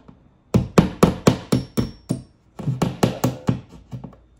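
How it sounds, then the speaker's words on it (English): A hammer drives a nail into drywall in two close, quick series of sharp knocks, about seven blows each, separated by a short pause. "I'm going to just poke around here with a nail."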